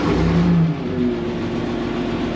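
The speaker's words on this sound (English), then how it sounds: "Nice smooth engine. Exhaust is leaking on it." Older tractor-type engine with a hand throttle and a leaking exhaust, idling steadily after starting, with a low rough mid-frequency drone throughout and a brief louder rev at the start.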